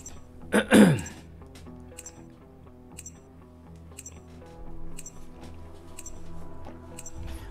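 A single sharp throat clearing near the start, short and forceful, followed by quiet background music, while playing Call of Duty: Mobile.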